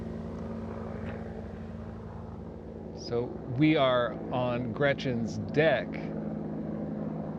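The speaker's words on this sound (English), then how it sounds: "right now we have a military helicopter of some kind flying overhead on this otherwise serene afternoon." A military helicopter flies overhead on a calm afternoon by the water in Olympia, Washington, heard as a steady low droning hum that continues throughout while a person talks over it.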